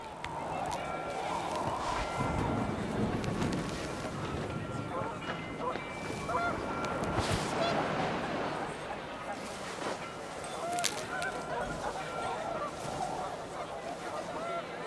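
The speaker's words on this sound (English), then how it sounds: "panicked geese appeared and quickly went" Geese honk in panic in the video game What Remains of Edith Finch, their cries rising amid gusting wind and game ambience while a narrator speaks over them.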